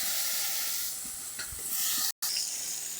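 Eggplant frying in oil previously used for fish, giving a steady close hiss and sizzle that cuts out for a moment before carrying on.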